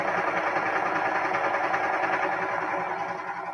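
A serger sewing machine runs fast and steady, stitching along the edges of quilt fabric with a constant close, dense whir that barely wavers.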